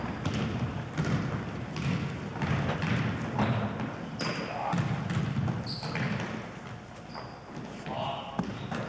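A missed shot bounces during a basketball game at a McLean High School class of 1971 twentieth reunion: dull thuds of the ball recur under steady crowd chatter and voices in an echoing gym.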